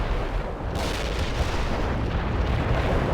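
Artillery barrage from the World in Conflict video game, a dense, continuous rumbling roar of heavy fire and explosions with no clear gaps, loud throughout.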